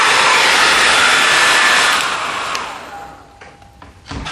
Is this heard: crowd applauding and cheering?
no